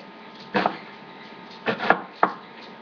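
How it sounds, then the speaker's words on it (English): Onions chopped with a knife on a board, three or four sharp close knocks in short clusters over a quiet background. "Hate cutting onions."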